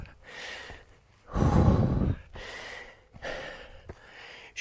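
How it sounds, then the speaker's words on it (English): Heavy puffing and panting from a walker hiking uphill on a long island trail, several loud breaths in a row with one big gasping exhale in the middle, close and alone. "If you can just put up with my puffing and panting for a little while longer."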